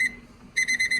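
A digital probe-style oven thermometer sounds its temperature alert: a high electronic beep, then a pause, then three quick beeps in a row, close and clear with no talking.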